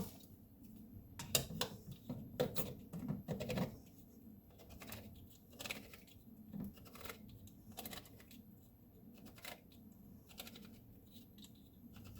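A can of low sodium tomato sauce is opened, giving a quiet, close string of sharp clicks and ticks spread unevenly across the clip, with no voices.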